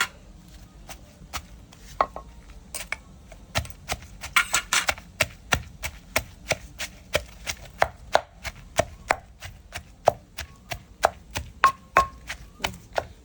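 Kai mushrooms pounded in a mortar for an Isan dish, sharp wooden thuds landing in a steady, fairly quick rhythm, close and loud, with a brief flurry of faster hits early on and faint talk in places.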